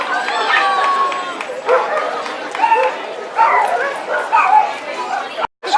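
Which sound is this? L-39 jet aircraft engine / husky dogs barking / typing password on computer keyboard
husky dogs barking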